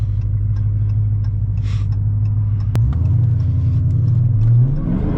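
Cold drag radials on a roughly 1,000 hp Hellcat Charger break loose at launch: a loud, steady engine rumble that surges and rises as the tires spin, close and continuous with no talk.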